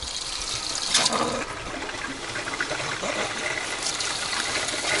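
An RV faucet on a 2020 Rockwood Ultra Lite 2906rs runs pink antifreeze during winterizing, a steady, fairly soft stream of splashing water with a slight sputter early on and no talking.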